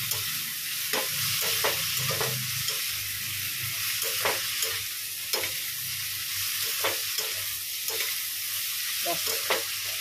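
Curry being sautéed in a pan, a constant frying sizzle broken by regular scraping strokes of a spatula against the metal, close and steady throughout with no talk.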